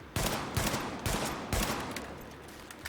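Pistol shots in The Division, several spaced sharp cracks in a steady rhythm, each ringing briefly, moderately loud, then a quieter tail with a faint final pop.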